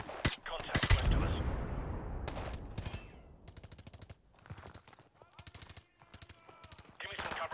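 Gunfire in the video game Call of Duty: Modern Warfare Remastered: a heavy opening blast, then rapid automatic bursts in rattling clusters, some near and some fainter, with brief voices between shots.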